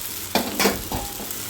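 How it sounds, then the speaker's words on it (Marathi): A spoon stirs sago khichdi in a hot pan, giving three quick, close scraping swishes with a faint sizzle. "शाबूला पण आता सगळं एकत्र करून घेणार आहे, मिक्स करून घेणार आहे।"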